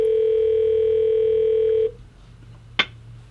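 A steady telephone line tone holds for about two seconds on a call-in office hours broadcast, then cuts off, leaving quiet line hiss and a brief click.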